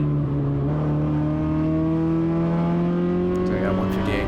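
A 2003 Mazda Miata fitted with a 2.4L Ecotec engine races on a track, its engine droning loud and close with a steadily rising pitch through a gear, briefly joined by faint clicks near the end.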